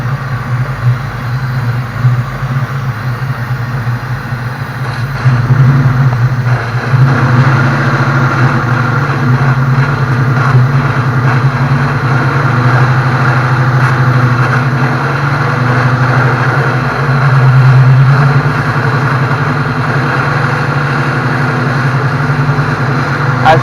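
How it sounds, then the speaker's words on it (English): A car's engine idles steadily while Sea Foam treatment is fed in, a close, continuous low hum with a slight rise in level about a quarter of the way through, then holding even. "As you can see, the car is idling."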